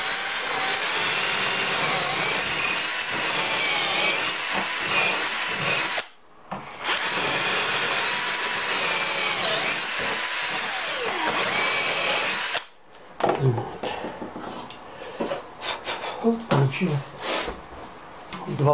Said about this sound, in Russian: зажимаем и сверлим.